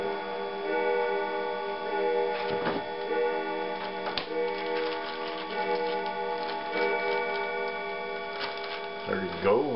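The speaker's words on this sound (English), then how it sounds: "Well, the clock is telling me that it is 7 o'clock." A kitchen wall clock ticks with a steady, regular beat at close range, sounding alongside a continuous hum and a few brief knocks, with no talking over it.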